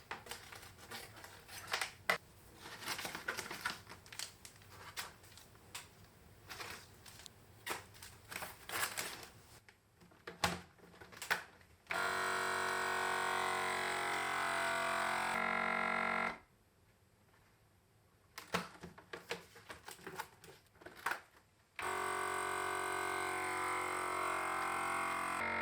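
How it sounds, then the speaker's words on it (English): Scissors snip open oxygen absorber packets with crinkling plastic in a series of close cuts and rustles, broken by stretches of loud steady buzzing noise. "now I'm going to cut open my last oxygen absorbers that I have"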